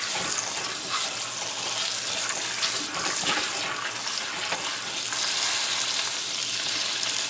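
Beef roast searing in hot oil and butter in a pan, a loud, continuous close sizzle with crackling that stays even throughout.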